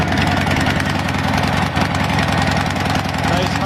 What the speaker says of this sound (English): Nice Harley mufflers.